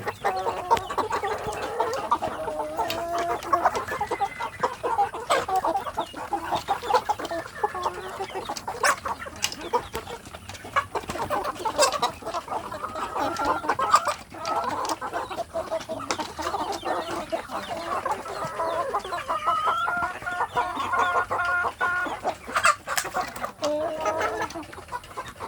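Several free-range village chickens cluck and murmur steadily nearby, overlapping soft calls continuing throughout with occasional sharper notes.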